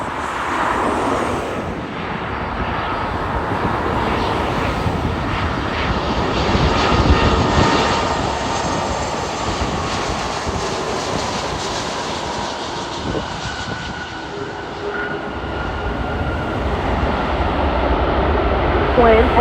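A Hawaiian heavy jet lands on runway 24 right at Los Angeles International Airport, its engines giving a sustained, loud roar that swells and fades slightly as it passes.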